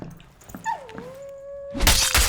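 A puppy in the Dark and Darker video game lets out a single drawn-out, wavering whimper that slides down and holds, followed by a sudden burst of loud noise.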